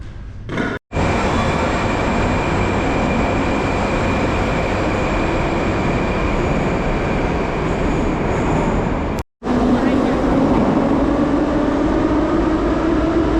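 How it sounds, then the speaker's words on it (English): Metro train in a Tashkent subway station, a loud continuous rumble of rolling carriages with a rising wheel squeal near the end, broken by two brief sharp cuts. "Just got back from checking out the metro, a couple metro stations, and they were very cool."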